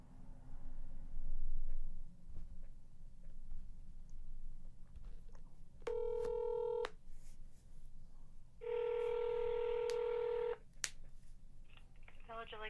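Touch-tone dialing and ringback while calling Lake Villa, Illinois City Hall: short tonal beeps, then a sustained ringing tone around six seconds and a longer ring near nine seconds, over faint background hum.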